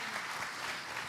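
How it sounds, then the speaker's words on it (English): Warm audience applause at an evening Bible study gathering, a steady dense wash of clapping filling the whole short moment, close and fairly loud with no voices over it. "give a warm round of applause, gratitude to Curtis Bowers"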